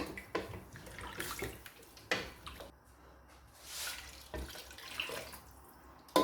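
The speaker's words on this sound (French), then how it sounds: "Et là, j'ajoute de l'eau claire." Clear water pours into a pot for vegetable soup in several separate splashing bursts with short pauses between them, close and fairly quiet, with no talking.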